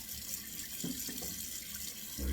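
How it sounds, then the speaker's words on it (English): Cold water runs steadily from a bathroom sink tap, a continuous close hiss and splash that holds even throughout, with a slight surge at the end. "cold water's running in the sink"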